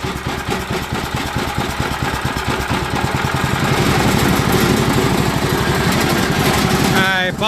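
A Duromax 208 small gas engine with the choke on sputters into life and settles into a loud, steady running chug, with people talking over it.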